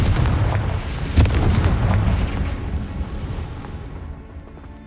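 Confringo fire spell blasting in Hogwarts Legacy, a single loud explosive boom with a sharp burst early on, followed by rumbling battle noise that slowly fades.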